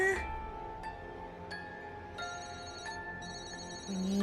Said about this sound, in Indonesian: Terdengar bunyi HP yacht.